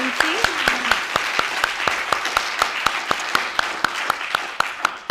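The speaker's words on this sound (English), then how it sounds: "I'd like to close the day by asking everyone to join me in giving her a round of applause" An audience at a digital archiving symposium breaks into steady applause, sustained clapping from many hands filling the room, with a brief voice at the start.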